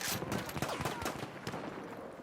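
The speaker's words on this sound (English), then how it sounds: "He's shooting at me now." Gunfire in the video game Battlefield 1, with rapid bursts of shots and sharp cracks in quick succession, fairly faint against a busy battle background.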